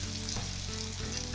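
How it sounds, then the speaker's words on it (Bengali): Spice masala of salt and cumin powder sautéing in a pan for a raw jackfruit and prawn curry, giving a loud continuous sizzle with a few soft stirring scrapes, close up and with no talking. "মশলাটাকে কষিয়ে নেবো ভালো করে।"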